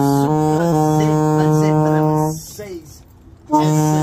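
A loud, sustained horn blares for a couple of seconds, drops away briefly, then sounds again at full strength.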